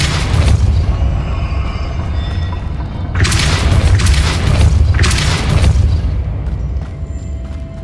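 Confringo fire spell explosions in Hogwarts Legacy, loud deep booms in two or three heavy bursts with crackling tails over a constant low rumble, no talking.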